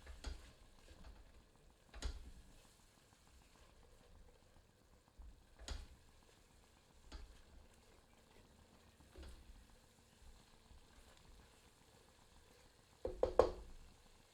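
Goat keema and mushroom mixture roasting in a pan over medium heat, a faint steady sizzle broken by a few sharp stirring knocks and scrapes, with a louder clatter near the end.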